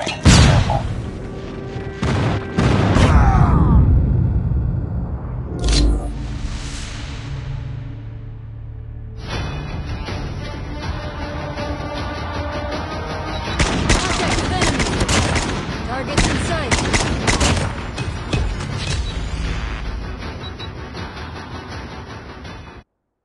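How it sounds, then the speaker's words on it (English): An enemy airstrike in Call of Duty Mobile's Radical Raid unleashes heavy explosions and a roar of automatic gunfire, loud and dense, with a sustained barrage of blasts and crackling shots rolling on for many seconds. "Enemy airstrike incoming."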